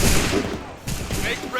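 Musket volley fire in Assassin's Creed 3, a loud ragged burst of many shots at once, a short lull, then a second crackling fusillade.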